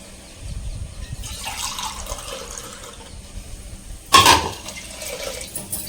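Water is added to rice in a pot while making ghee rice, with a soft running pour that rises to a short loud gush near the end, then settles back to quieter trickling.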